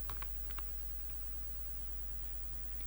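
Code being typed on a computer keyboard, a few faint, quick key clicks in small bursts near the start, then sparse taps over a quiet steady hum.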